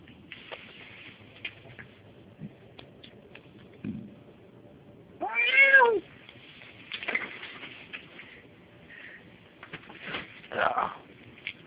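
A cat gives a single drawn-out meow near the middle, with quieter scattered sounds and faint voices around it in an indoor setting.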